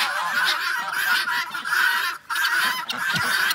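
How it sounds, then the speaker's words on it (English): A flock of geese honks loudly and continuously nearby in a snowy farmyard, overlapping calls with only a brief pause. "Here come the geese."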